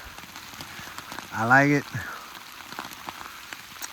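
Steady rain patters on a wooded walking trail near a pond, a soft continuous hiss throughout, while someone briefly speaks close to the microphone partway through.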